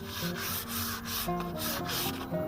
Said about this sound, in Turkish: giderene kadar zımparalıyorsunuz